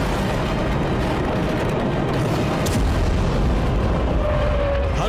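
Explosions at missile launchers during Israeli strikes on Iranian military bases: a loud, continuous roaring rumble with heavy low-end boom and no voices.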